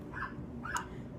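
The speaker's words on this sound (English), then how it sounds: "excuse my dog" A dog whimpers and whines indoors in two short, faint, high-pitched bursts over a quiet room, with no talking.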